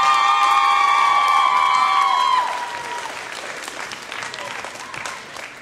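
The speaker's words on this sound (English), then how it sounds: "Everyone give her a round of applause." Wrestling crowd at an XWA event applauds and cheers loudly for about two seconds under a sustained musical tone, then settles into quieter scattered clapping and murmuring.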